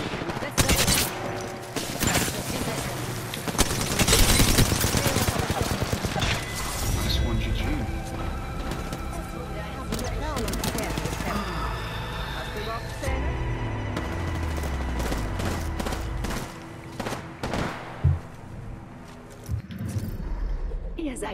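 Gunfire aimed at the player in an Apex Legends match crackles in dense bursts and rattling volleys, mixed with mechanical clatter and game sounds, loud and busy throughout.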